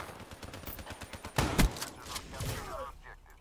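A pump-action gun fires in the Black Ops 3 video game: lighter game noise ticks along before two loud, close blasts land in quick succession, followed by a fading rumble.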